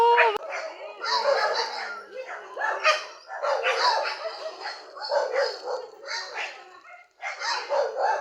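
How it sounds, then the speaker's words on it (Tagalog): A dog barks in repeated bursts at close range, some yips mixed in, with a short pause before a final round of barking. "Ayun, yung aso ko!"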